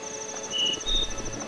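Crickets chirp in an underground passage in Garry's Mod on a Legend of Zelda map, a steady high trill, with a few brief louder chirps popping out and a soft low rumble underneath.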